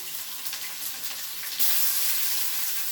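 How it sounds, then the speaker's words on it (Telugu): Onion pieces dropped into hot oil with a tempering of urad dal, cumin, mustard seeds and curry leaves give a steady close sizzle that jumps louder about halfway through and keeps crackling alone, with no talking. "అవి వేగిన తర్వాత ఉల్లిపాయ ముక్కలు వేసుకోవాలండి"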